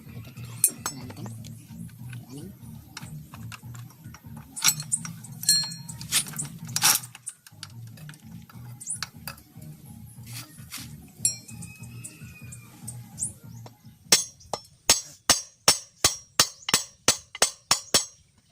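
Scattered metallic clinks and scraping, then a steady run of sharp hammer blows ringing on a Honda XRM motorcycle chain, close by and evenly spaced.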